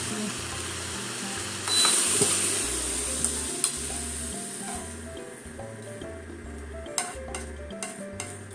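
Spinach and maitake mushrooms sauté in olive oil in a pan, with a steady sizzle under repeated stirring scrapes and a few light clinks of utensils against the pan.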